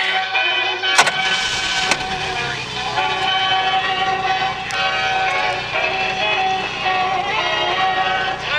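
A 1947 Oldsmobile 76 engine on a cold start, a sudden loud onset followed by a steady, rough, droning run of the engine close by, continuing without a break.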